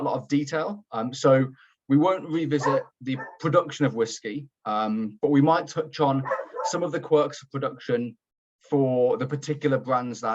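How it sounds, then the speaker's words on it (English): A pet dog barks and yips in the background, faint and intermittent beneath continuous close speech from a man presenting a whisky tasting session. "Again, I apologise if you can hear my dog in the background,"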